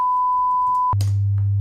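A steady 1000 Hz sine test tone from a synthesizer node sounds cleanly, then cuts off abruptly into a brief noisy burst followed by a low, sustained hum.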